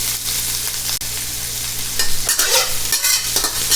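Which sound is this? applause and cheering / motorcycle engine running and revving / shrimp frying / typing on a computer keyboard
shrimp frying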